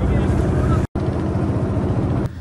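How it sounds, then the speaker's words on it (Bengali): Speedboat engines drone steadily on the Arial Khan river at a village boat race fair, a close, throbbing motor hum that cuts out for a moment and then carries on before fading near the end. "অনেকে আসে স্পিডবোট নিয়ে।"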